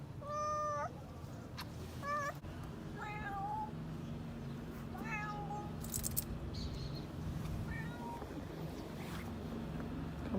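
A cat outdoors in Matera, Italy, meows about five times, with short, fairly faint calls spaced a second or two apart over a low background hum.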